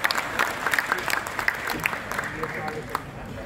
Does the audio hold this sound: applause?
yes